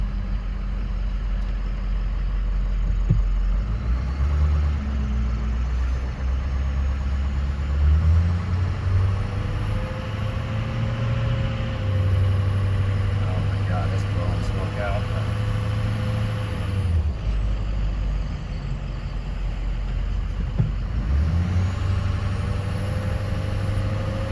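A Ford 6.0 Powerstroke diesel with a cracked injector idling nearby as a steady, loud, low rumble that continues throughout, with a few brief changes in tone and some faint background noise.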